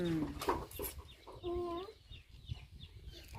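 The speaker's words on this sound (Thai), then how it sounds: "เสียงไก่เลยนะไก่" A chicken clucks a few times nearby, with soft background noise and faint low murmuring around it.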